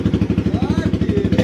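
KTM Duke 250 single-cylinder motorcycle with an aftermarket exhaust runs close by in a loud, evenly pulsing beat, the rapid thumps repeating without pause.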